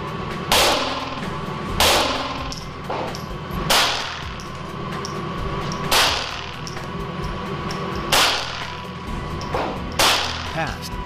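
.22 Long Rifle full metal jacket rounds fired at commercial glass coated with 15 mil protective film, five or six sharp cracking shots spaced about two seconds apart, loud and close with impact snaps between.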